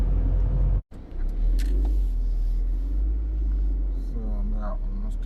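A car rolls into Putrajaya toward a parking area, a steady close engine and road rumble continuing throughout, with one brief dropout near the start.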